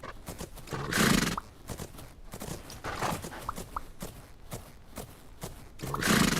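Horse in the video game Fernhoof Grove, cantering with rhythmic hoof clip-clops and several loud neighs and whinnies, the last one near the end, over a steady game soundscape.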